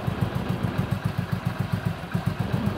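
Motorcycle engine idling after a clutch plate replacement, a steady close-up putter with an even, rapid pulsing rhythm and a slight mechanical clatter, running alone without voices.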